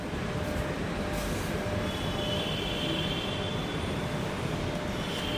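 Steady rumble and hiss of a metro station with trains, a continuous mid-level roar holding evenly throughout with a faint high tone appearing partway, no talking.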